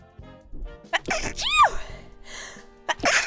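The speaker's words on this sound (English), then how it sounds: "Can I please stop sneezing for one moment?" A person sneezes at close range, with sharp breathy bursts, a sudden pitched sneeze in the middle and another sneeze at the end, mixed with gasps and brief vocal sounds.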